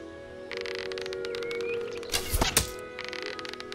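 A solid thunk of an arrow striking its target in Fable Anniversary, sharp and close, over steady game background music and ambience.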